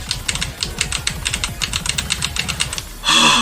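Rapid keyboard key presses from someone playing the rhythm game osu! Catch the Beat with the keyboard held like a Guitar Hero controller, a fast steady clatter of clicks that ends in a brief louder burst.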